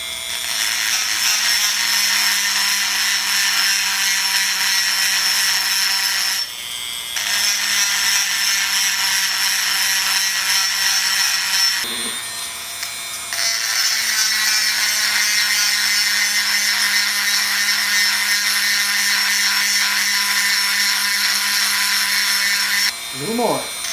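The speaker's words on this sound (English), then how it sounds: "So what I'll do now is grind the center of it until it shows thin" A grinder thins the centre of a metal piece in long, steady, loud whining passes, broken by two brief pauses.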